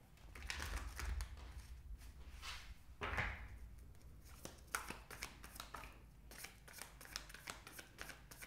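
Tarot cards being shuffled by hand, a run of crisp riffling flutters and soft slaps, close and quiet.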